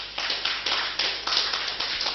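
An audience claps together at an event in Cotonou, Benin, the applause coming in steady, dense bursts at a fairly close, loud level with no talk over it.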